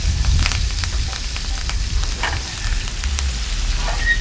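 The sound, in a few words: steak sizzling in a pan while basted with butter and garlic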